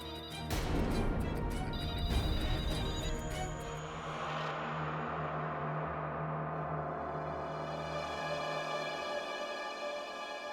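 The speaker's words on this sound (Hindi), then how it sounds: "फोन मत उठाना, कोई फोन मत उठाना।" A loud crash-like burst gives way to a steady, sustained electronic ringing tone that drones on for several seconds with no voices.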